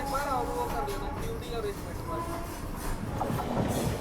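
Passing 14117 Prayagraj–Bhiwani Kalindi Express passenger train rumbling steadily close by from the opposite direction, with a continuous rail roar and a voice talking over it.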